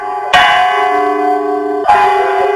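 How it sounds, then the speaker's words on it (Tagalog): Church bell in Ilocos Norte, rung in front of the church during a candle-lighting vigil, peals loudly twice with long resonant humming decay between strikes, with no voices. "kasabay ng pagtunog ng kampana"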